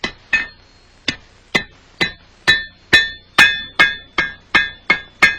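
A hammer strikes hot iron on an anvil in an 18th century gunsmith's shop, ringing out about a dozen sharp, metallic blows that quicken into a steady rhythm, loud and close with no voices.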